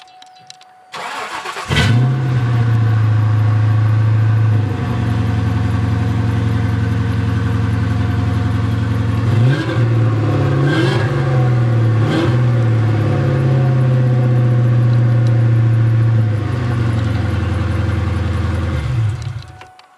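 A car with an exhaust clip cranks and starts in the morning, then settles into a loud, steady low drone with a few short revs mid-way before shutting off near the end.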